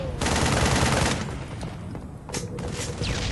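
Rapid video-game gunfire from a gun turret, a dense loud burst that drops off briefly mid-way and returns with sharp shots near the end.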